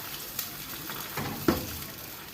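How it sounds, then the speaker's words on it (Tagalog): Squash with meat sizzles and fries steadily in a pan, close and continuous, with a few soft stirring clinks and scrapes and no talking. "Para iluto ang aking kalabasa na may karne sa loob."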